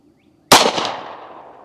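A single sharp shot from a Smith & Wesson Model 36 snub-nose revolver fired at an outdoor range, loud and close, with a sudden crack followed by a long fading echo.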